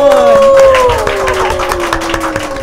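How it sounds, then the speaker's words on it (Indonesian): An audience at a corporate event in Indonesia claps in loud, dense applause, with a sustained tonal sound gliding slowly downward over it. "Kita berikan tepuk tangan yang meriah untuk Bapak Abun."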